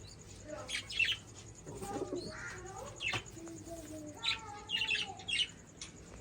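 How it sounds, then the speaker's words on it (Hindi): Pet pigeons cooing and chirping close by in soft, irregular bursts, with a faint flutter of wings and quiet voices in the background. "बाकी सारे कबूतर"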